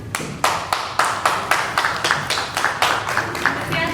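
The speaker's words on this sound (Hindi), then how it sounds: "कृपया तालियां बजती रहें।" A seated audience at a health lecture claps together in a steady rhythmic beat, about two sharp unison claps per second, loud and close, as a doctor is welcomed to the stage.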